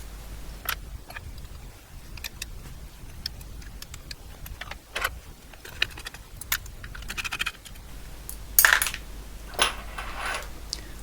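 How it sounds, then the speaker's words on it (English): Small metal clicks, taps and light clinks come from an LRP-300V tape punch as its rear guide plate is unscrewed and lifted off, scattered and close, over a quiet room. "take off the rear guide plate"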